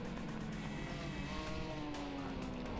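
Superbike racing motorcycles at the Ledenon circuit in France, engines droning loud and continuous at high revs with pitch slowly shifting as the bikes pass through a corner, no voice.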